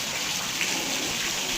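Water pouring steadily from the mouth of a stone Nandi statue at Talakaveri, the source of the Kaveri river in Coorg, a constant close rushing splash with no pauses.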